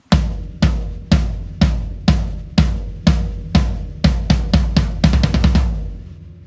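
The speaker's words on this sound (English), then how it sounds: "Just your floor tom sounds like this." Floor tom drum played alone in a drum fill, loud booming strikes that start as steady eighth notes and speed up into a rapid run of sixteenth notes near the end, with no talking.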